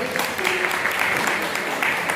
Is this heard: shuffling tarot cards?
no